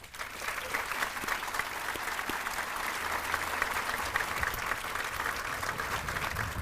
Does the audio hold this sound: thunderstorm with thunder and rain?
no